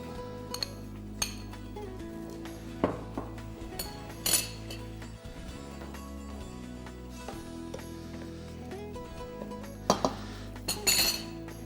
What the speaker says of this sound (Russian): мы добавим в наше блюдо отваренный горох, нут